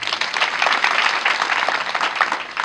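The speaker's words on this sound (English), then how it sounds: "Clap for yourself for that." Students at a girls' high school talent expo clap for themselves, a steady, full burst of applause from a large group throughout, with no talk over it.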